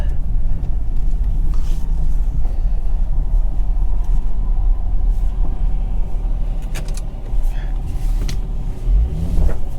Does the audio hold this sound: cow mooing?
no